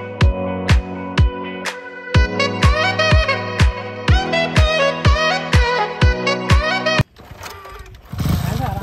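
A motorcycle ridden on bare rims without tyres gives out a series of loud, sharp, evenly spaced pulsing bursts close by. A rougher, noisier stretch follows.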